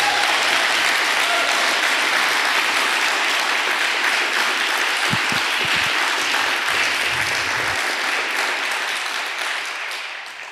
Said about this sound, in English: another round of applause for Doug Anderson